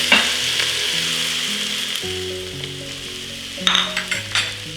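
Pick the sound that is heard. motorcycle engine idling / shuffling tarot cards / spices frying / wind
spices frying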